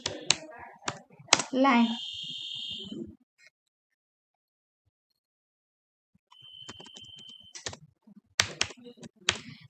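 Keys clatter on a computer keyboard in short bursts, with a quiet gap between them, while someone speaks in Hindi over part of the clip.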